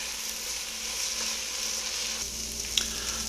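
Minced garlic sizzles in a frying pan with translucent minced shallots, a steady close crackling hiss throughout with a faint clink near the end and no talking.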